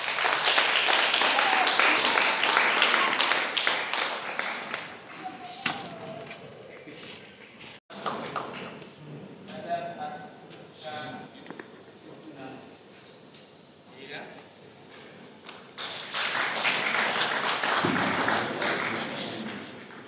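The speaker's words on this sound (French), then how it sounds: "Sous vos applaudissements, bien sûr." Applause from the audience at a choir-conductor diploma ceremony in Kinshasa, loud at the start, thinning in the middle, then swelling again toward the end, with a voice heard over it.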